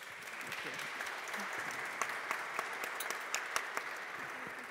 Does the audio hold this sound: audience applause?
yes